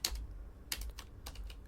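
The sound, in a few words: typing on a computer keyboard to erase text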